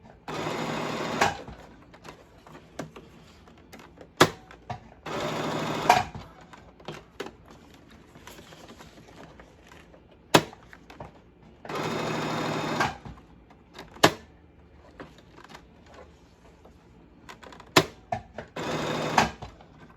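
An electric sewing machine stitches a crash bag in repeated bursts of fast, rattling needle chatter separated by short pauses and small clicks, loud and close throughout.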